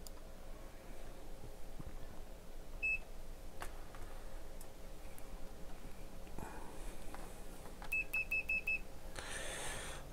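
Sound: multimeter continuity test beeping on a water-damaged amplifier

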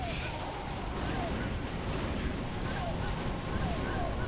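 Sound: Detonate ability explosion in Warcraft 3 video game

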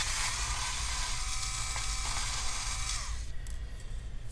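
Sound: removing laptop motherboard screws with screwdriver

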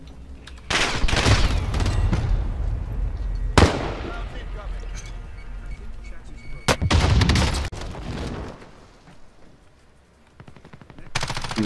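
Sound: gunfire in the video game Call of Duty Warzone

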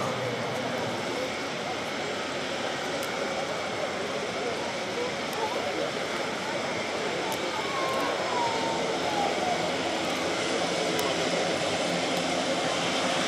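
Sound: Airbus A400M military transport aircraft at an air show

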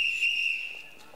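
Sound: whistle blown by a boy in uniform

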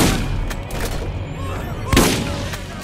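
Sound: gunfire from an opponent's gun in a video game

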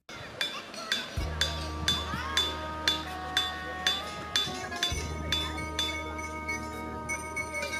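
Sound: hammer striking ringing rock

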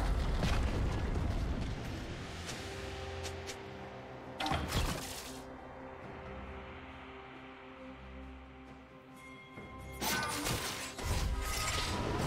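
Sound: turret destroyed in League of Legends video game

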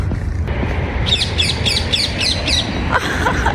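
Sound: green birds calling in trees

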